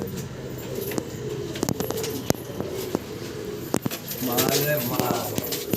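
A Rajasthani kalsira pigeon at a loft gives soft low coos near the end, mixed with sharp clicks and taps, while people talk throughout.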